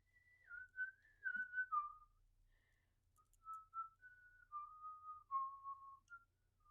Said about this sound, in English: It's hard to whistle with this thing on my lip.